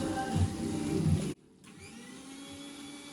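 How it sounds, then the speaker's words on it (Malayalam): A mixer grinder blends milk and cashews into a fine paste while a Kerala chicken biriyani is being cooked. Its loud, steady whirring motor noise cuts out abruptly partway through, then resumes more quietly. "അത് നന്നായി മിക്സിയിൽ നല്ല ഫൈൻ പേസ്റ്റ് ആക്കിയിട്ട് നമ്മൾ എടുക്കണം"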